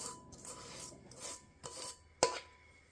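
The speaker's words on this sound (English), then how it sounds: "Make sure you scrape it out good because it is thick." A utensil scrapes thick s'mores casserole mixture from a bowl, giving several soft rasping strokes close by with one sharper knock near the end, all quiet and with no talk.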